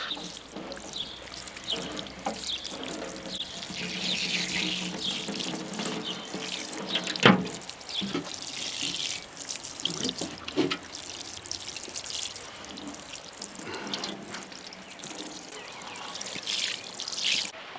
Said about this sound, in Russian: Сейчас мы эту всю соль смоем, водичку сольем.